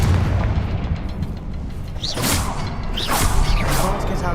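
A Confringo blasting spell in the game Hogwarts Legacy bursts with whooshing booms, two sharp blasts in quick succession over a steady rumbling game backdrop.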